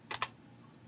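Typing on a computer keyboard, a few close, quiet key clicks: two quick taps together, then a pause and one more.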